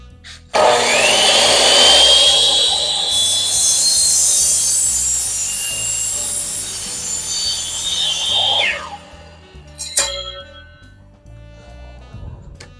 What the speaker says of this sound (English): Saw set at 45. I have it clamped.